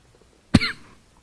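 A single sharp cough bursts out close to the mic during a class on the Srimad Bhagavatam at a temple, loud and brief with a short rasping tail, otherwise quiet around it.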